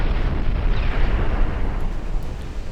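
Heavy torpedo explosions striking warships in the naval strategy game Ultimate Admiral Dreadnoughts, a dense, continuous rumbling blast with deep low-end boom sustained loud throughout, no voices.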